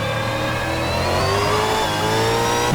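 A Reiza Super V8 race car in a racing game at the Bathurst circuit, its engine note climbing steadily under hard acceleration, loud and continuous with no talking.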